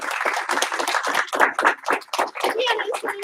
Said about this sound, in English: Give her 1 clap, 2 claps.